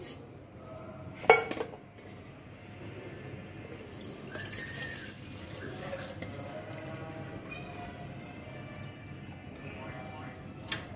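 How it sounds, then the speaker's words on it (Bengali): A milk pot being washed under a running tap, with water streaming, metal pot clanks and a sharp knock early on, fairly quiet and close; someone talks over parts of it. "আমি দুধের পাতিলটা একটু ধুয়ে দিয়ে দিচ্ছি।"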